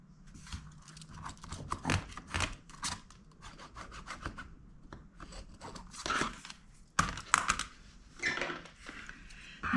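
Scissors cut through quilted fabric for a gift bag in a series of close, uneven crunching snips and rubbing strokes, quiet, with short pauses between cuts.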